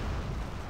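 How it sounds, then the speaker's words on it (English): Artillery and mortar barrage in Wargame: AirLand Battle, a dense continuous low rumble of blasts rolling together, loud and sustained with no clear gaps. "See here the enemy dropping artillery on my"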